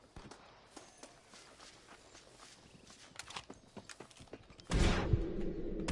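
Running footsteps in the Red Dead Redemption video game make a quick, steady patter of light thuds and clops that grows louder. A heavier rushing surge comes in near the end.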